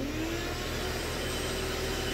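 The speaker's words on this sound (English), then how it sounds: "We're going to go ahead and turn the shop vac on now." A shop vac vacuum runs steadily on an air conditioner drain line, a constant close whirring motor drone with a faint rising whine and no voices over it.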